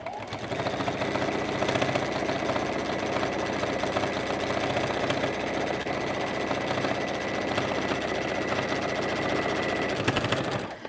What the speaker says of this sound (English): So I'll back stitch here just to make sure it stays.